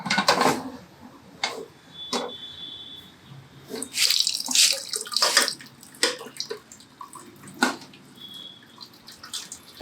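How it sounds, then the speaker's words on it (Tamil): Starchy water from cooked rice drains out past a lid held on the pot for chicken dum biryani, in uneven splashing gushes and trickles with quieter gaps between pours, close by and without speech. "மூடி போட்டு வடித்து எடுக்கிறேன்"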